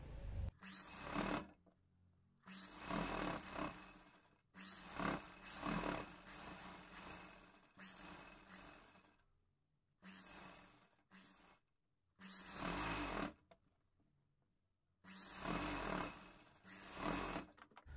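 Sewing machine stitching a folded hem on a cowl neck top, running in repeated short bursts of whirring separated by brief quiet pauses, close and fairly faint, with no talk.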